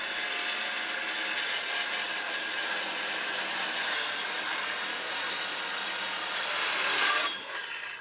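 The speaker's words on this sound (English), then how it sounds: "Now I can cut 4 2x4s down to a 4-foot length." Continuous power sawing through wooden 2x4 boards, a steady loud grinding buzz that drops off abruptly near the end.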